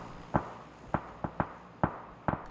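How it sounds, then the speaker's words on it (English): Grenades explode one after another in a PUBG match, about six sharp separate blasts at irregular intervals. They are fairly close and punchy, with no talking. "Lots of grenades going in"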